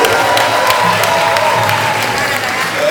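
Loud, continuous audience applause rings out at a New Year gala show, dense clapping with a light crowd murmur, steady from start to finish.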